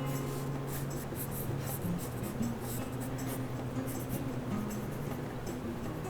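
A pen or pencil scratches across paper while drawing a small cartoon figure. The strokes are soft, close and intermittent, with short scribbles over a low, steady background hum.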